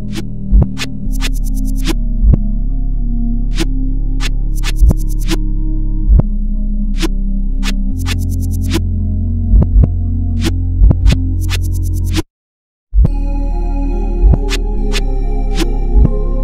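A slow FL Studio beat remaking a song, pitched down, with deep sustained bass and pads under sharp hi-hat and snare clicks, gated in quarter-beat pulses and briefly cutting to silence before resuming.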